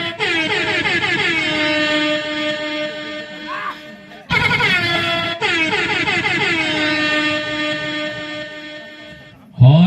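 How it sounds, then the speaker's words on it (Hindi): The do-or-die hooter at a village kabaddi premier league match, a loud, harsh, buzzing horn blast held for several seconds, cut off briefly, then sounded again at length, with a short final blast at the end. "और ये डू और डाई हुटर की आवाज अनमाने ढंग से कभी कभी ये भूपू की आवाज हमें भी अटपटा लगती है"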